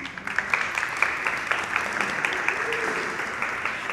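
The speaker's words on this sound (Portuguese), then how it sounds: "Pode aplaudir." Audience applause at a Brazilian neuroscience conference talk, steady clapping from a crowd that sustains evenly for several seconds after a speaker is called to the stage.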